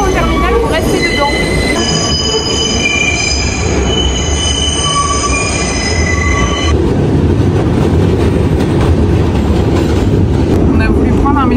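A New York subway express train rides along with loud, continuous wheel squeal and high steady screeching tones over a deep rumble of rail cars, filling the whole stretch; faint voices may sit underneath.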